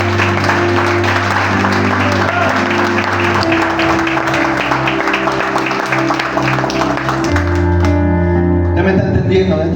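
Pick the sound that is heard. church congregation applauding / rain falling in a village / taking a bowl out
church congregation applauding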